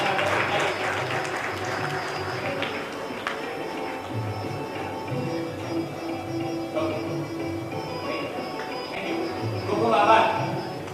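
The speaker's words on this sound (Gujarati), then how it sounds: "જોરદાર તાળીઓ સાથે એમના" An audience at an Independence Day function breaks into loud, sustained applause, dense steady clapping from many hands that swells near the end.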